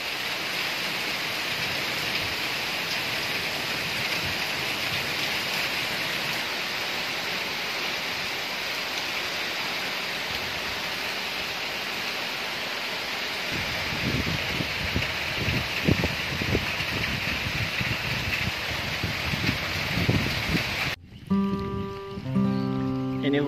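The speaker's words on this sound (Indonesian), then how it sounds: "Ini hujannya sudah agak reda" Rain falls steadily beside a fish pond, a dense even hiss throughout, joined midway by lower splashing and knocking; near the end the hiss cuts out, leaving faint scattered sounds.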